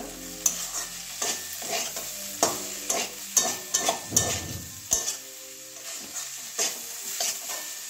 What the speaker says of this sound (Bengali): মিশিয়ে নেব গরম মশলাটা।